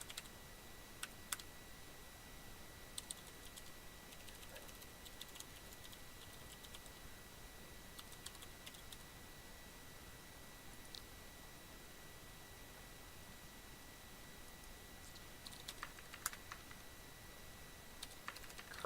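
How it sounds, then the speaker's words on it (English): Quiet, scattered keyboard typing: short bursts of clicking keys separated by pauses, soft and close, over a faint steady hiss. "Curse my bad typing"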